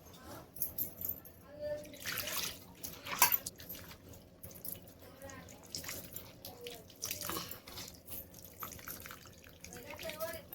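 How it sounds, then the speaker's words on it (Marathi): Sliced bitter gourd is washed by hand in water, with soft splashing and dripping close up while someone talks over it. "आता पाणी टाकून धुवून घेणार"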